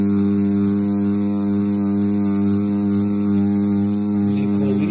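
CNC Q3 rotary tattoo machine running at 7.7 volts, a steady, loud electric hum and buzz held close without variation for the whole stretch.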